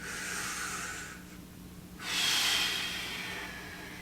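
Deep breath drawn in and then let out during a hip and shoulder mobility session, with two broad, airy swells close to the mic and a brief quiet gap between them, no talking.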